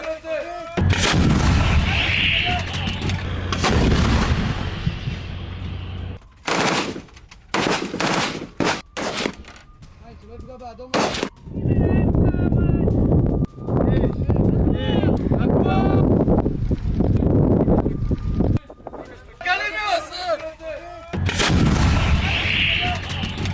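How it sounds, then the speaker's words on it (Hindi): Israeli army self-propelled guns firing shells, with repeated heavy booming blasts and rumbling echoes over more than twenty seconds, very loud and close, and a narrator speaking between and over the shots. "इजरायली सेना ने सेल्फ प्रोपेल्ड गन से गोले दागे।"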